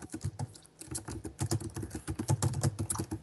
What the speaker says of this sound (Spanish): ¿quién anda aporreando el teclado, tío?